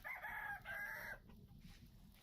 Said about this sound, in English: that's a very good rooster crow